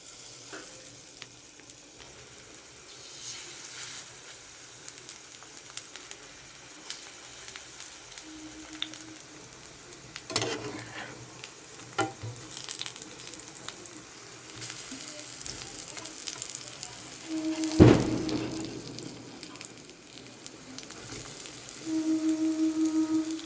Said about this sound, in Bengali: এবার পেঁয়াজিগুলো ভাজবো